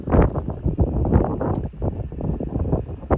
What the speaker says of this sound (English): Curse that wind.